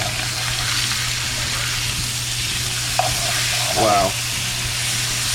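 Ribeye steaks sizzling in a pan after being flipped, a steady loud hiss and crackle of frying filling the whole span, with a brief clank and a short exclaimed word from a voice partway through.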